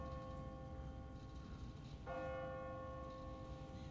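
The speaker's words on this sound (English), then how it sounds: "What kind of church bell goes off at 20 past the hour?" An automatic church bell on a timer strikes in a video game, a single resonant toll ringing out mid-clip over a quiet background hum, with no voices.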